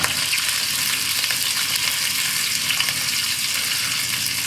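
Thin slices of pork belly frying on a grill outdoors, giving a steady, close, continuous crackling sizzle with no talk over it.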